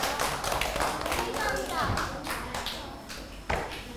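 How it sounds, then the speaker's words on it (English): Children clapping together in a classroom, a brief patter of small hands with a sharper clap near the end, set against noisy room chatter and voices. "Big clap for them!"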